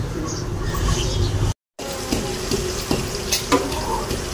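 Onions frying in a pot set over an open fire outdoors, a steady crackling sizzle with light stirring clatter. A brief dropout cuts in partway through, then the frying carries on with a few sharper clinks.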